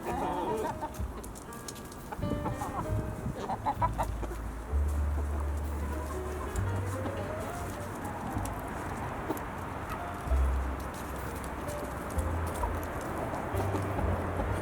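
A backyard flock of hens with a rooster pecking at scattered food makes soft, low clucks and cooing murmurs. The calls are intermittent and fairly faint at close range, with no talking.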